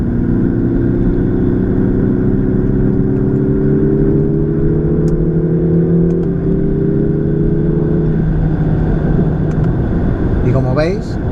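A hybrid car accelerates hard while paddle shifters drop it through the gears: a loud, steady engine drone climbs in pitch, then steps sharply at each downshift.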